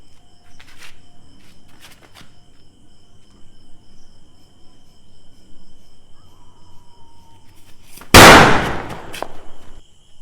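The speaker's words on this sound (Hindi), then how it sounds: "मोटे वाले मिर्ची बम के 2 पैकेट है, तो मैं तो एक एक करके फोड़ूंगा।" Mirchi bomb firecracker bursts with a sharp, loud bang late on, after a few faint clicks and pops, with crickets chirping steadily in a quiet night setting.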